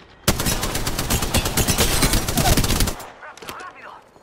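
Rapid, sustained automatic gunfire in the battle-royale shooter Apex Legends, loud and close for nearly three seconds of dense bursts, then fading to scattered faint game sounds.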